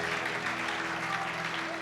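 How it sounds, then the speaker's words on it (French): A church congregation claps together in a full, even burst of applause, with a low sustained musical tone and faint voices running underneath. "Allez, on applaudit bien fort."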